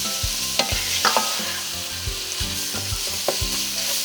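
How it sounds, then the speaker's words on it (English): Meat sizzles and sears in a hot pan for lasagna sauce, with a steady frying hiss broken by several sharp stirring scrapes and clacks of a utensil against the pan. "Just let the meat get a little seared."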